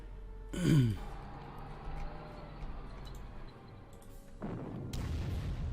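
A distant artillery shot from the strategy game Panzer Corps booms once, low and heavy, with a rumbling tail, then a second rough burst of noise swells near the end.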